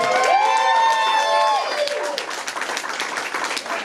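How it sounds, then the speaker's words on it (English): A comedy club audience applauds and cheers, a dense, steady wash of clapping with a few whoops that slowly thins out. Another sound rings over the start before fading. "So give a big round of applause for all these comedians that are going to come up tonight."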